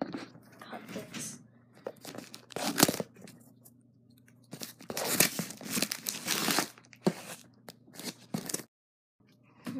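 Wrapping paper on a birthday present crinkles, tears and rustles as it is cut open, in close, bursty handling noises with a brief pause near the end.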